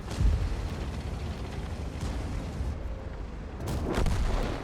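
Tank cannon firing at a refrigerator in a tank video game, a heavy low boom at the start with rumbling aftermath, then a second swelling blast near the end, loud and alone.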